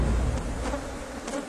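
A dense swarm of honeybees covering a person drones in a loud, close, continuous buzz, with a few individual bees passing nearer and louder.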